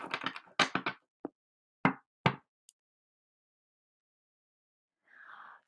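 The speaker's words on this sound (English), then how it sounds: "One more shuffle." A handful of quick papery slaps and riffles of tarot cards being shuffled, then quiet, and a soft brushing sound at the end.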